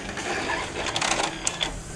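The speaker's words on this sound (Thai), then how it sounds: "อันนี้มันดูดกระดาษเราเข้าไปแล้วเห็นไหม" Inkjet printer feeding a sheet of paper, a close rustling, clicking mechanical rush with a few sharp taps, no voices.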